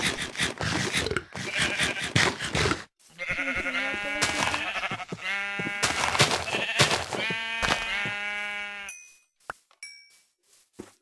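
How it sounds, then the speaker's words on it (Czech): Sheep bleating in a survival video game, several harmonic bleats close up and loud, following a burst of scraping, rustling game sounds and then falling to quiet with a few faint clicks. "zabít poslední ovci, kterou potřebujeme"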